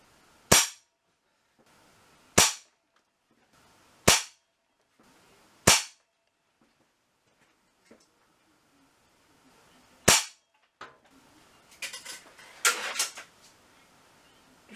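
Air rifle shots with GSB Exact Jumbo pellets striking a plasticine backstop: five sharp, loud cracks about two seconds apart, then a lone shot near ten seconds, followed by rattling, clattering noise.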